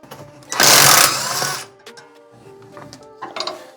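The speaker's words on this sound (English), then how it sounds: "this is probably one of the best investments that I made was this impact" A cordless impact wrench rattles loose front suspension bolts while old, rotted suspension is removed, one loud hammering burst of about a second, then fading into quieter mechanical clicks and workshop noise.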